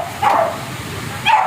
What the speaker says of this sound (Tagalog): Yan yung mga aso, nag-iiyak